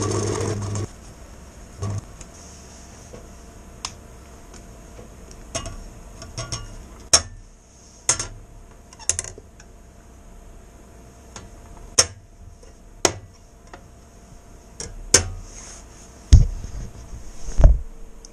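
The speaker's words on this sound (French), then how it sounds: "Et voilà, machine Elna fonctionne." An old Elna sewing machine, about 45 years old, ticks and clacks mechanically with a faint running hum and irregular sharp clicks that grow louder toward the end.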